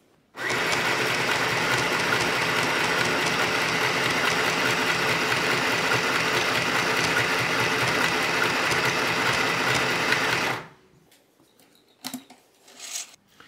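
An Easymaxx compact sewing machine stitching in one continuous fast mechanical whir with rapid needle clatter for about ten seconds, then it stops abruptly, leaving a few faint handling clicks.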